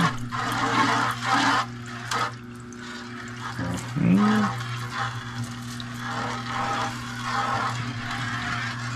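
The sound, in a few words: water washing clay out into a sluice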